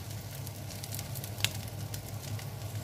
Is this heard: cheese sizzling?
yes